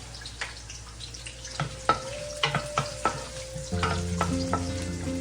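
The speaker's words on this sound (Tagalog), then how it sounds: "Dito naman sa kanan, magigisa ako ng sibuyas." Onions sauté in a wok for a pork pata dish, with a soft, steady sizzle under repeated metallic clinks and scrapes of a spatula that grow busier toward the end.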